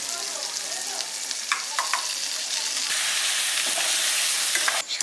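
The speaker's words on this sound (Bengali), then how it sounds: "এইবার সর্ষে আর কাজু বাদাম বাটাটা এর মধ্যে দিয়ে দেব" Mustard and cashew paste fries with cooked-down spices in oil for a prawn and potato curry, a loud, continuous sizzle broken by repeated scraping stirs of a spoon against the pan.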